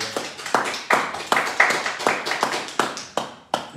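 A church congregation claps in a steady rhythm during praise worship, about ten sharp, fairly loud claps at regular intervals with a faint voice underneath.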